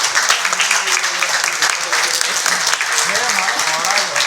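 Loud applause fills the hall for the volunteers and Landstack team at the ILDC 2025 valedictory plenary, sustained throughout while a voice speaks over it.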